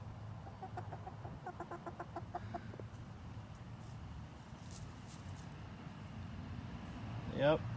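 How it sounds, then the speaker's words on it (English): Chickens clucking in a farmyard, a short run of soft rhythmic clucks early on, fairly faint under steady outdoor background noise, with a brief louder sound near the end. "here's the chickens"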